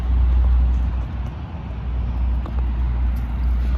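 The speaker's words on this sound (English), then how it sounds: "But here goes the Washington Metro bus on the highway." A Washington Metro bus passes on a highway, a steady loud low rumble of engine and road noise with no talk over it.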